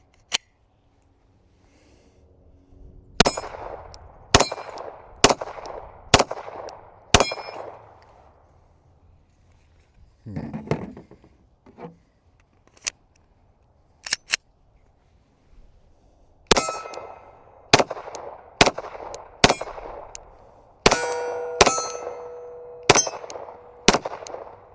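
Glock 47 pistol shots ring off steel targets outdoors as a series of sharp cracks, each followed by a metallic clang. The shots come in two quick strings with scattered handling noises in the gap between them.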